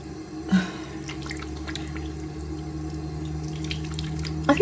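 Tap water runs steadily into a bathroom sink during a face rinse, a continuous close splashing flow with faint drips and no talking.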